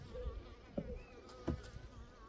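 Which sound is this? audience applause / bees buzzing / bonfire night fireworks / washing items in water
bees buzzing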